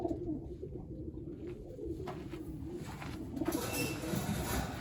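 Birmingham roller pigeons, including a black South cock bird, coo in low repeated murmurs against steady outdoor background noise.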